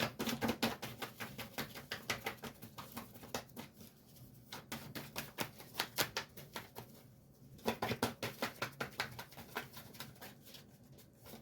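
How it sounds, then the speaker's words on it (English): A deck of tarot cards is shuffled repeatedly, a quiet riffling patter of rapid soft card flicks in bursts with brief pauses between, close and alone. "Two more shuffles and I'll pull from the top."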